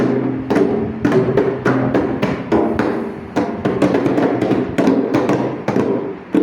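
Several kompang frame drums are struck together in a group, sharp slaps in an interlocking rhythm, loud and close, with no talking.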